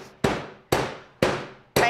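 A heavy pan strikes candy canes under a towel to crush them, four loud, evenly spaced thuds about half a second apart, each with a short crunching decay, close up and with no talk over them.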